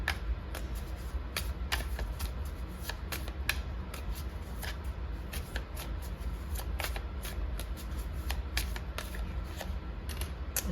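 Tarot cards are shuffled steadily by hand, with many rapid, crisp riffling flicks and slaps over a low background hum, close by and without talking.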